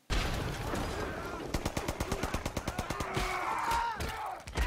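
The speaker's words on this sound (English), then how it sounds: "It's relentless fire." Relentless battlefield gunfire from the war film Hacksaw Ridge, rapid repeated bursts of shots in a fast rhythmic volley with explosions and rumble behind, fairly close and loud.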